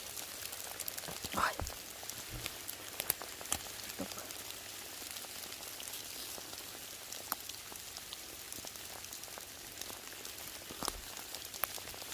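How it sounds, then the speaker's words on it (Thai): Rain mixed with hail comes down over open farmland, a constant close patter broken by occasional sharper, louder impacts. "ฝนตก ฝนตก"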